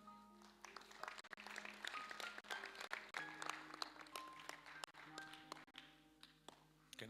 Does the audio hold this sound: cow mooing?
no